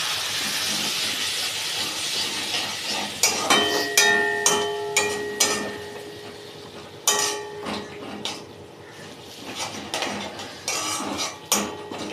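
Ground spice paste for chicken curry sizzles loudly in a pan as a splash of water goes in, a steady hiss broken by repeated metallic clanks and scrapes of a utensil against the pan.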